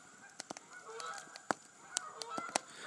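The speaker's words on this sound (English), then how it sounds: "you can probably hear all the geese on that microphone there" Geese honk repeatedly on a winter pond at night, a flock of sharp, separate calls scattered over a steady outdoor hiss, some close and loud, others fainter in the distance.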